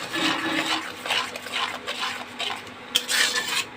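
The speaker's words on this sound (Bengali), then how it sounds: "মশলাটাকে ভালো করে একটু কষে নেব।" Spice paste of turmeric, coriander powder and cumin powder is stirred and fried in a pan for a vegetable and kachki fish curry: a steady scraping of a spoon against the pan in repeated strokes, close and moderately loud, with no talk.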